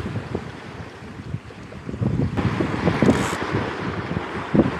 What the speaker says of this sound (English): Lovely wind.